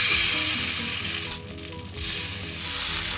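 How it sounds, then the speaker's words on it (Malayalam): Coconut dosa batter sizzling steadily on a hot iron griddle over lowered flame, a loud close crackling hiss that dips briefly in the middle, then resumes at full strength, with no talking. "ഇനി നമുക്ക് ഫ്ലെയിം ഒന്ന് കുറച്ച് വെച്ച ശേഷം വേണം മാവ് കോരി ഒഴിക്കാൻ"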